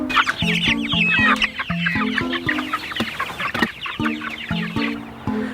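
A flock of chickens clucks continuously and close by, with overlapping busy calls and steady low clucking throughout, no talking.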